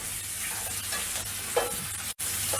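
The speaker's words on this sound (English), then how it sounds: "Now it's time to add in our sausages." Sausages fry in a pan with a steady close sizzle while a utensil stirs them, adding occasional scraping knocks. There is no talk over it.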